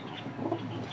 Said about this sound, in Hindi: और ये कबूतर आए हुए हैं।